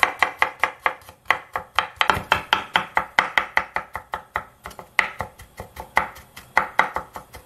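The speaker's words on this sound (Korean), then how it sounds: "마늘도 많이 했습니다. 잘게 다져 놓겠습니다." Garlic being finely minced with a knife on a cutting board: rapid, steady chopping strokes in a close, loud rhythm throughout, with no talking.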